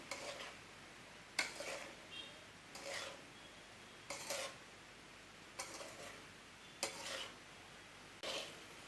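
Repeated scraping strokes of a utensil against a pan while stirring raw banana curry, about one every second and a half, steady and fairly quiet, with no talking.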